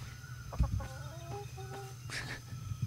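Chicken in the pirate survival game Atlas clucking in a quick burst of several close, clear clucks over a low steady game background hum.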